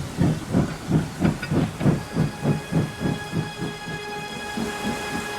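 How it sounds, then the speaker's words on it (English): A cartoon steam locomotive puffs in a rhythmic chuffing beat that gradually slows and fades, with a constant steam hiss and a faint whistle-like tone above. "Suddenly, James' steam pressure shot up"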